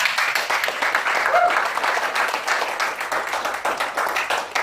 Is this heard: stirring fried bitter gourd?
no